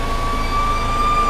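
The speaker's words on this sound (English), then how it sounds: "I wonder if the siren still works" A fire truck siren, switched on from a floor pedal, sounds loud and close as a steady sustained wail with engine rumble underneath, no talking.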